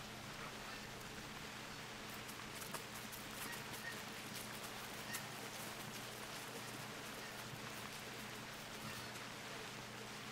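Continuous rain at the Hirschfelden hunting reserve in The Hunter Classic, an even, unbroken wash of noise with a low hum beneath.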